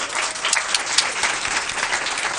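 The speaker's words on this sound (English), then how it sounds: "please join me in one more round of applause" Audience applause at a school board meeting, honoring a performing arts honoree: steady dense clapping from a full room, sustained and fairly loud throughout with no talk over it.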